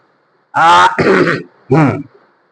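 A person clears their throat with two rough, gravelly bursts, pauses briefly, then gives one more short throaty rasp, loud and close.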